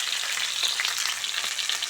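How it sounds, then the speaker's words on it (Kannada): Chicken pieces fry in oil in a pan, giving a close, dense crackling sizzle that stays steady the whole time. "ಚಿಕನ್ನೆಲ್ಲ ಹಾಕಿಟ್ಟಿದ್ದೀವಿ. ಫ್ರೈ ಹಾಕಬೇಕು."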